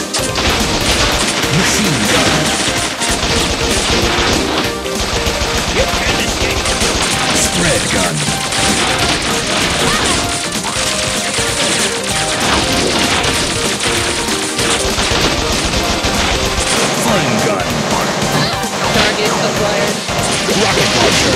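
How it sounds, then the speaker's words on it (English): Machine gun firing continuously in the video game Bot Vice, a dense, loud barrage of rapid shots and crashing impacts mixed with game music, sustained throughout. "Machine gun."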